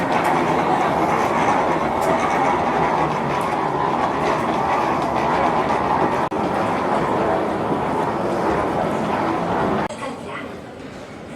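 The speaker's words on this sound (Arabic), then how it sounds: "The train will be arriving shortly." Airport rail train at Incheon International Airport running steadily, a loud continuous rumble with rail clatter that eases slightly near the end.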